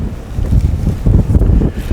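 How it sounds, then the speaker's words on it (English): Strong wind gusts roar across the microphone outdoors around an Arabian stallion, a steady low buffeting rumble with surging bursts and no talk. "And it's real windy today,"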